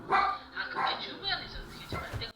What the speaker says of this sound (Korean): 방에서 강아지가 짖기 시작합니다.